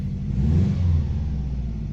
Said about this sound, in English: So I'll give it a bit of revs, just ever so slightly.